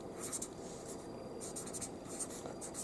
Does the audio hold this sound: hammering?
no